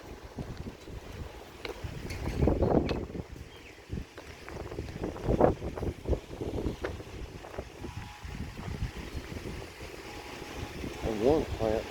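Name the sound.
strong wind outdoors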